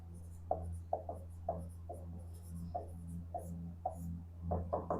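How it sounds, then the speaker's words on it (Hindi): A pen scratches out notes on paper in short, irregular strokes, close up over a low steady hum, with no talk. "हम भी आपके साथ लिख देते हैं।"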